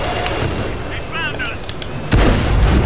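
Tank cannon fire from an Object 140 in World of Tanks, a sudden heavy boom near the end that follows quieter rumbling game noise, with faint tonal effects and scattered clicks before the blast.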